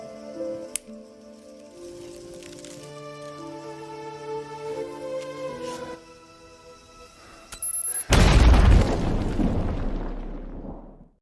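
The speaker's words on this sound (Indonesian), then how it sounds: "Tiba-tiba, makam Vesper pun meledak." After quiet orchestral music, a tomb suddenly explodes in a loud, deep blast whose roar rumbles on for a few seconds before fading.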